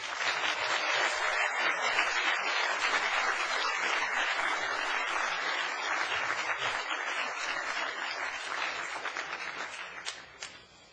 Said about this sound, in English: I'd like to ask for another round of applause for our class of 2012.